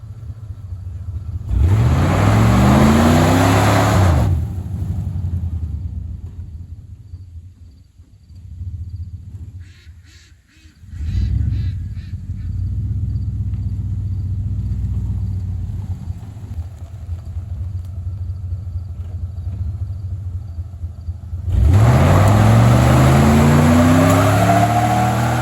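Worn-out tires being burned off by an old parts truck, its engine revving hard in two long roaring bursts with rising pitch, separated by a quieter stretch of idling and rumbling.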